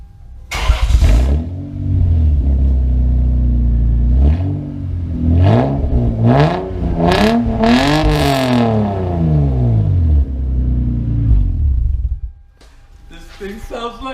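A Lexus SC300 with a loud aftermarket exhaust revs hard several times, rising to high RPM in rapid sweeps before dropping back to idle, close and loud, with a voice briefly audible near the end.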